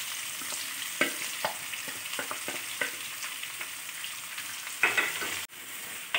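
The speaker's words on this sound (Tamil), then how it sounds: "வெங்காயத்தை கொஞ்சம் நல்லா வதக்கிக்கலாம் பொன்னிறமாக வர வரைக்கும்." Long-sliced large onions, added with curry leaves, frying in a pan for village-style pepper chicken: a steady broad sizzle with scattered scraping stirs and a couple of louder clatters, close and alone without talk.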